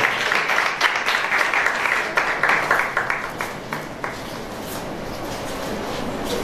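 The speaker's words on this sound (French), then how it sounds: "Est-ce qu'on peut applaudir encore pour le s'il vous plaît?" An audience at a certificate ceremony for graduating students applauds loudly and briskly. The clapping thins out after a few seconds into a softer, scattered patter.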